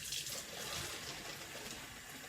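Warm water runs into bottles from a tap, a soft continuous hissing flow, faint and steady throughout, with no voices.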